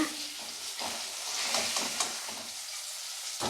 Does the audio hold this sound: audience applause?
no